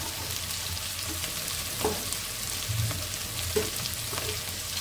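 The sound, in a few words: eggplant chop (begun chop) frying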